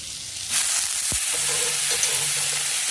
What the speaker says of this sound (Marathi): दोन मिनिटं चांगला भाजू